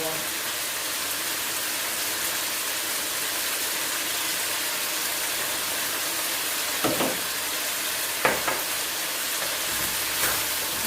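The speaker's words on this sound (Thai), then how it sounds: "ก็ผัดไปอย่างนี้ค่ะ ผัดพอ น้ำแห้ง" Pork ribs are stir-fried with holy basil in a hot pan, a continuous loud sizzle with a few sharp scraping stirs of the utensil near the end, close and steady.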